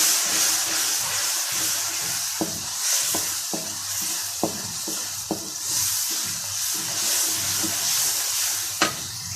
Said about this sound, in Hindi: आप देख सकते हैं कि मसाला अच्छे तरीके से फ्राई हो चुका है।